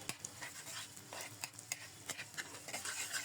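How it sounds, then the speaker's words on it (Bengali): Garlic being stirred and fried in foaming mustard oil over a high flame: steady sizzling with repeated scraping stir strokes, close and moderately loud, no voices. "হাই ফ্লেমে এটাকে এক থেকে দুই মিনিট একটু স্টির করে নিতে হবে মানে হালকা ভেজে নিতে হবে"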